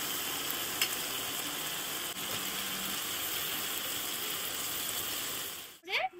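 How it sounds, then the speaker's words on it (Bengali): Green jackfruit sautéing in hot oil in a pan, giving a steady, close sizzle that runs unbroken for several seconds before a brief clatter and scrape at the end. "এঁচোড়টা দিয়ে কষিয়ে নিতে হবে"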